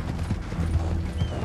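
Horse galloping in Red Dead Redemption 2, a loud, close, continuous drumming of hooves with rhythmic low thuds under a rushing background.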